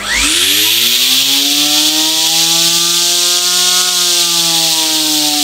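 Electric grinder with a bladed jar powdering Nihari masala spices: a loud, steady high-pitched motor whine that rises quickly as it spins up, then holds evenly with no talk.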